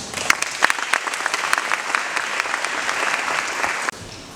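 Audience applause at a seminar for singers in Burundi, a dense, steady patter of many hands that holds near and fairly loud before cutting off abruptly near the end.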